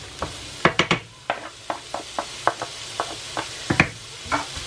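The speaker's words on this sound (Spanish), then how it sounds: "Y esto pues vamos a dejar que se vaya cocinando a fuego medio alto." Chopped onion cooks in a pan over medium-high heat, a soft sizzle under a series of regular scraping knocks as a utensil stirs the pan close by, with no talking.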